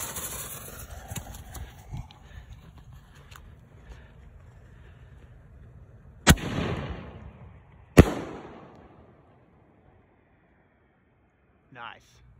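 A sea blue and white strobe firework display shell bursts with two sharp booms a couple of seconds apart, each trailing into crackling decay, after quieter background rumble and light handling sounds.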